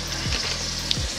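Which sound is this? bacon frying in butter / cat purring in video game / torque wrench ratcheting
bacon frying in butter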